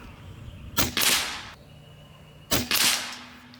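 Two sharp shots from a Karma Airguns EQ bullpup PCP air rifle, each a crisp crack with a short hissing tail, spaced about two seconds apart, close and loud over quiet outdoor background at a 50-yard range.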